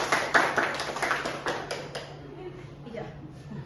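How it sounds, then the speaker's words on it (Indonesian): A small group claps for Papi at an Indonesian gathering, a short burst of fairly close, brisk applause that fades out after a couple of seconds as low talk continues. "Beri aplaus dulu untuk Papi ya"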